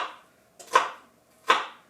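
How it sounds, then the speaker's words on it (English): A knife chops through onions on a cutting board in three crisp, close strikes, spaced roughly evenly, each a short sharp thud with a quick fade, alone and without talk. "I just go ahead and start chopping these babies up."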